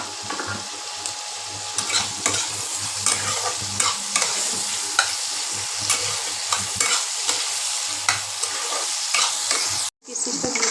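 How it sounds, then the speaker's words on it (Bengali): Vegetables including pumpkin, pointed gourd, potato, capsicum and carrot frying with cashews and raisins in a pan for a Bengali dal, heard as a steady close sizzle with repeated scraping stirs and a brief pause near the end. "কুমড়ো, পটল, আলু, ক্যাপসিকাম ভেজে নেব, তারপর কাজু কিশমিশটা দেব।"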